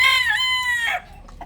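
A chicken gives a loud, drawn-out squawking cluck close by, about a second long, then trails off into quiet.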